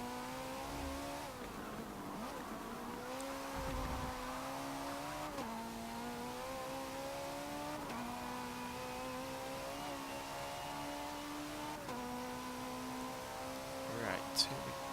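A 1957 Maserati 300 S race car in Forza Motorsport 7 drives at speed, its engine note climbing through several gear changes, fairly faint with a steady whine throughout.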